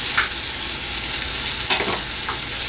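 Crushed ginger and garlic fry with green peas in a pan, a continuous bright sizzle with a few scraping stirs of a utensil near the end, close and loud.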